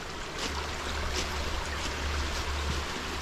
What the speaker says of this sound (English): There's the Rojan Creek.